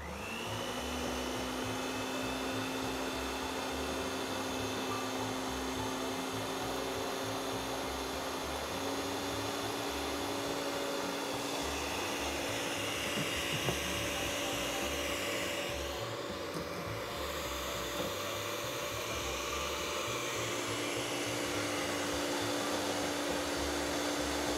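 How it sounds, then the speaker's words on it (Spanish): Electric mixer beating tiramisu cream while gelatin is poured in, a steady whirring hum running unbroken throughout at moderate, even volume. "Empezamos a batir de nuevo y agregamos la gelatina rápido"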